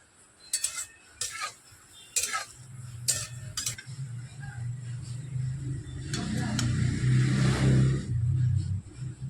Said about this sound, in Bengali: কাজু বাদামগুলোকে এবার ঘিয়ের মধ্যে দিয়ে দিচ্ছি, হালকাতে নাড়াচাড়া করে ভেজে নেব